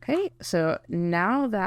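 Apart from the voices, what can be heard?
No everyday noise stands out behind the speech.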